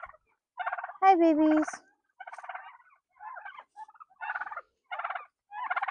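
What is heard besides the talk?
turkeys gobbling in the cold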